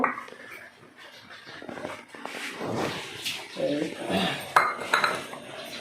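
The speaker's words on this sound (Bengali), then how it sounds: "রসুন বাটলাম এখন পেঁয়াজ বাটবো" Garlic and onion being ground into a paste by hand, a scraping, knocking rhythm of stone or utensil against a surface with clinks, while a person talks over it in a home kitchen.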